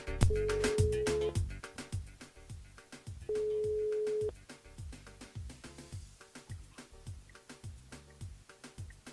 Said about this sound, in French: On appelle Gwendoline du côté de Saint-Denis